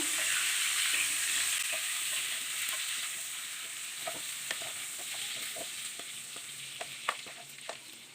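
Prawns frying in hot oil in a pan crackle with a dense, steady sizzle that slowly eases, dotted with sharp pops and the clicks of stirring.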